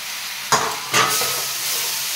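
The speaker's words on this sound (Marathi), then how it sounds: "आता हे सुद्धा 2-3 मिनिट आपल्याला परतून घ्यायचं आहे" Paneer bhurji with chopped coriander and tomato being stirred in hot tempering in a pan, with two sharp scraping stirs over a steady low sizzle, no voices.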